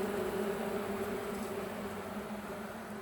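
Honeybees buzz at an opened spring hive after being disturbed during a frame count, making a soft, steady droning hum that stays faint throughout.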